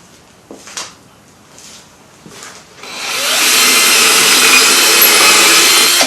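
A saw rasps steadily and loudly through wood for several seconds while building a cigar box mandocello, preceded by a few faint knocks and scrapes.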